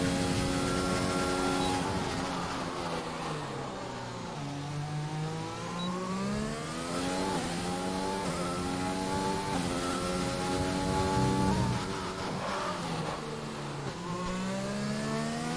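An F1 race car engine screams through a lap of the Hungaroring in a PC racing game, a continuous, high-revving whine that rises through the gears and dips sharply on each downshift.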